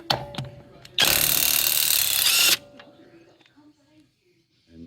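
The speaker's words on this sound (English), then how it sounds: "If you don't have a rattle gun, you'll use your tool that comes with it. It's a 19mm, but I use a rattle gun." An impact wrench (rattle gun) on the 19mm wheel nuts of a Tank 300 hammers in one loud, close burst of about a second and a half, framed by quieter clicks and handling noises.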